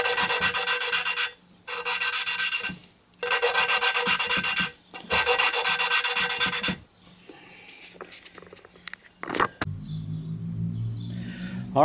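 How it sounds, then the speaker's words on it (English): Hand lapping the engine valves of a push mower, a close, steady back-and-forth rubbing grind that comes in three long bursts separated by short pauses, followed by quieter handling and clinks. "you get the idea how to lap valves"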